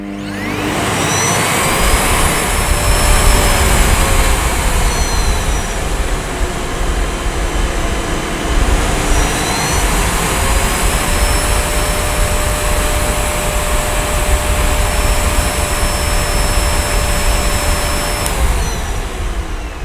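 A Miele Dynamic U1 upright vacuum cleaner runs continuously with a loud, steady motor roar and airflow hiss, its pitch shifting gently a few times as suction settings change.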